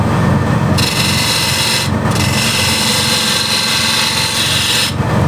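A spindle gouge cuts wood spinning on a lathe while a bead bowl is turned, making a loud, continuous scraping, shearing rasp over a steady motor hum, with brief pauses in the cut.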